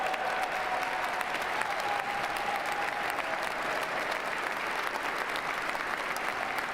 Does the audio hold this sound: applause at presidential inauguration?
yes